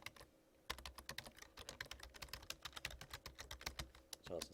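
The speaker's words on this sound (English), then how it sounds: "I'm just going to type" Rapid, steady keystrokes clatter on a computer keyboard as a search term is entered, close and quiet, running continuously with no voices.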